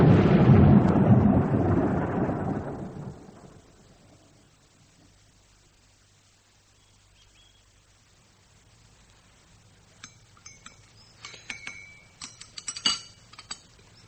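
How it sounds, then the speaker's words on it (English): A heavy thunder rumble rolls in loud and low, then fades out into near silence, and faint clinks and rattles follow in a staged storm scene for a period drama. "I think there's a storm coming."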